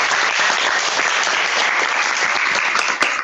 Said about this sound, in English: A round of applause here.